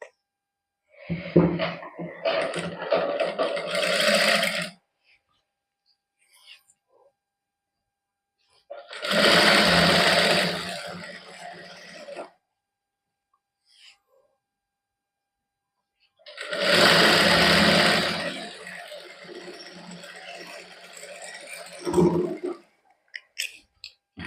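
Sewing machine stitching lace onto a plain suit, running in three separate bursts of rapid, rattling stitching, each a few seconds long, separated by quiet pauses with only faint handling sounds.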